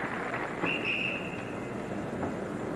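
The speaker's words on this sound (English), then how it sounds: "She doesn't go out and turn around until she hears the referee's whistle, meaning that everything is okay." At the 1984 Olympic women's platform diving final, a referee's whistle sounds as one thin, steady tone lasting under a second, partly buried in the hum of an arena crowd.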